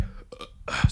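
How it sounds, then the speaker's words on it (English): A single short, low burp at the end of a brief pause in a podcast conversation, close to the microphone, after a few faint vocal fragments. "I know that I burp a lot on the podcast."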